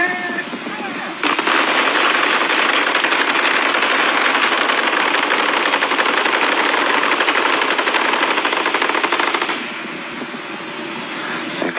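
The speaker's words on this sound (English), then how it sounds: "A glimpse of the 84mm anti-tank weapon being fired." Military firing demonstration by the Royal Welch Fusiliers, an 84mm anti-tank weapon fired outdoors: a sudden loud blast that swells into a sustained, roaring wash of noise lasting several seconds before cutting off and fading.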